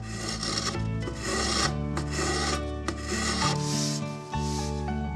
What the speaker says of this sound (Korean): 옥낫이라 부르는 이 칼은 장구 속을 파내고 다듬을 때 유용하게 쓰입니다